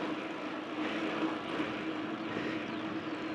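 A crop duster plane flies low near power lines in springtime Australia, its engine a steady, faint, distant drone that holds throughout without any voices.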